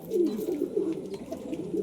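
Pigeons coo steadily in low, throaty, rolling calls that overlap one another, fairly close and continuous with no pauses.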